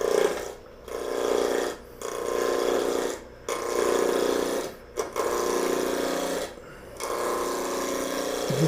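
A wood lathe spins a light kangaroo wood blank at about 2000 rpm, giving a steady whirring, rasping drone broken by several brief pauses.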